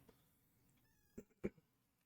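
A pet cat meows indoors, giving a couple of short, fairly faint calls close to the listener with quiet pauses between them.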